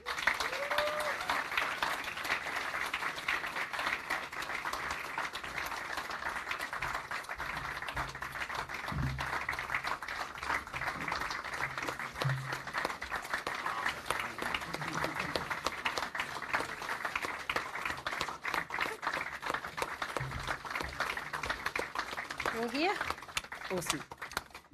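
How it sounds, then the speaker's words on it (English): A large crowd's sustained applause at a food-tech startup demo day, dense continuous clapping at moderate distance lasting well over twenty seconds, with a voice briefly heard through it. "I ask you to raise one more huge round of applause"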